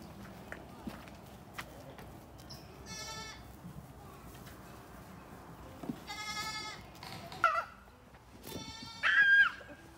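A goat in a pasture bleats a few times at mid distance, short nasal calls scattered over a quiet outdoor background, with faint footsteps and some rustling between them.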